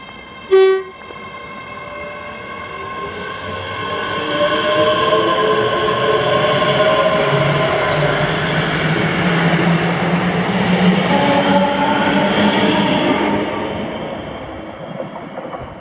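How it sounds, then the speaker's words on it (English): A ScotRail class 385 electric passenger unit runs through Bridge of Allan station on a Dunblane to Edinburgh service, opening with a short horn blast, then a loud rising rumble and wheel noise as it passes close by and fades. "this is 1P44, the 1603 ScotRail service to Edinburgh from Dunblane"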